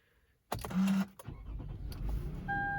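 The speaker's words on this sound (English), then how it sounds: "There it goes, roars to life." After a brief silence, a 2006 push-button-start car engine cranks and catches with a sudden loud burst, then settles into a steady idle, followed by a couple of electronic chimes.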